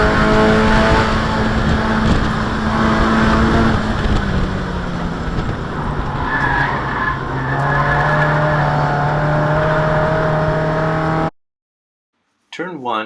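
A race car laps Thunderhill West at high speed: a loud, close engine drone sweeps in pitch through gear changes, with tire squeal, then cuts to sudden silence before a brief final burst.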